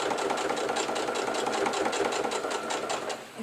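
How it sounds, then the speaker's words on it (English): Sewing machine stitching a vinyl edge in place on a needle caddy, a steady fast rhythmic whirr of needle strokes running continuously and close up, with no voices. "so we're just sewing that in place here"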